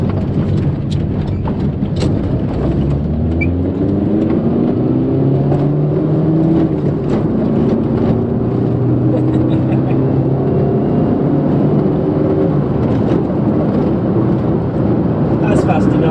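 A Vauxhall Nova GTE drives on the road, its engine revving in rising and falling sweeps through short gears, steady and close inside the cabin, with someone talking over it throughout.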